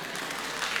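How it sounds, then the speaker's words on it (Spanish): Applause for a woman named Conchita, a mother-in-law, during a pastor's humorous talk in a church setting; a brief, dense, steady wash of clapping fills the whole moment without voices. "Dale un aplauso a Conchita."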